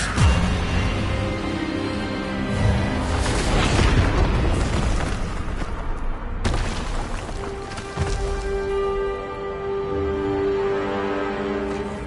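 A spell cast in Hogwarts Legacy erupts as a loud booming blast amid dense game music and effects, with a second sharp impact a few seconds later.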